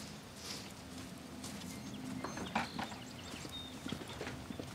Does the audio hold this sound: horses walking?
yes